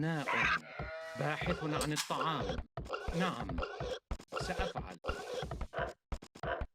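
Sheep bleat in a real-time strategy game while a villager herds them beneath the town centre. Short bleats come through in bursts, mixed under nearly constant close narration.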